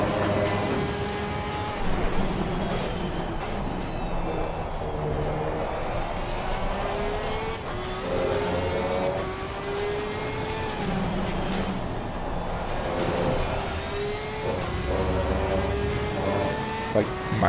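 Engine of a Porsche 992 race car lapping Brands Hatch in Assetto Corsa Competizione, a steady loud high-revving howl that rises through the gears and dips on downshifts, with repeated shift-cut blips across the lap.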